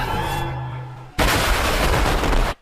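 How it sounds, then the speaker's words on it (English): A sudden massive anime explosion blasts in after a tense musical drone, a loud sustained roar of broad rumbling noise that holds for over a second before cutting off. "explosion."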